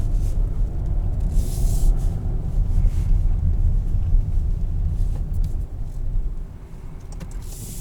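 Interior road noise from a 2022 Porsche Cayenne E-Hybrid Platinum Edition on the move: a steady low rumble of tires and drivetrain with faint wind hiss, constant in level throughout with no talking.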